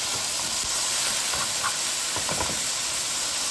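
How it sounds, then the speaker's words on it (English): Teriyaki chicken with broccoli and sauce simmers in a pan, giving a steady close hiss with faint bubbling pops throughout and no voices. "Let it simmer for a few minutes."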